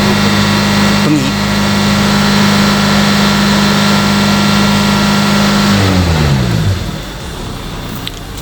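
A car engine running with a thermostat removed is held at about 2500 RPM, a loud steady drone that holds for several seconds, then drops back toward idle near the end.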